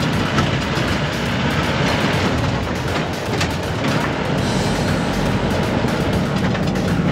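A safari jeep drives fast through Yala National Park in Sri Lanka, with a loud, steady rumble of engine, tyres and wind buffeting heard close up from onboard throughout.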